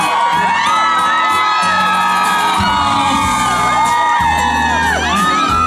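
A large crowd at an outdoor evening concert in Linbian, Pingtung, Taiwan cheers loudly as a singer is welcomed, with high-pitched screams and whoops rising and falling continuously.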